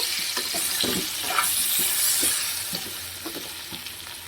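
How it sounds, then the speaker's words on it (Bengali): Potato pieces fry in oil with salt and turmeric, a close, busy sizzle with scattered clicks and scrapes of stirring throughout. "এবার আমি ধিমে আগে কিন্তু আলুগুলোকে ভেজে নেব"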